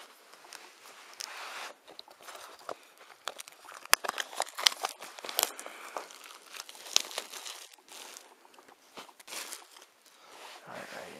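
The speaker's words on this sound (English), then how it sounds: "Here, I've got the knife here, I'll just cut it open." A knife cuts open the plastic wrapping of a DVD package, producing close crinkling, tearing and scraping sounds in irregular bursts, with quiet gaps between.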